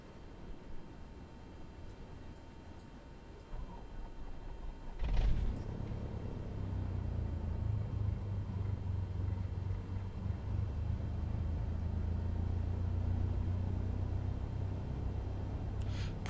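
A Grumman aircraft's piston engine starts up in Microsoft Flight Simulator 2024: quiet cockpit hum, then a sudden cough near five seconds that settles into a steady, low, rumbling idle for the rest of the clip.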